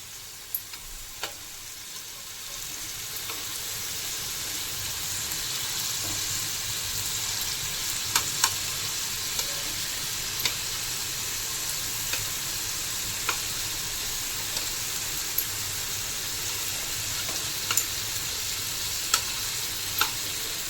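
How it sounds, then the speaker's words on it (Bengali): Chicken kebabs fry in ghee on a tawa over a low flame, holding a steady gentle sizzle for about twenty seconds, punctuated by small regular ticks and clicks as they are turned with tongs; no talking. "একদম লো ফ্লেমে কাবাবগুলো এবার আমি ফ্রাই করে নিচ্ছি"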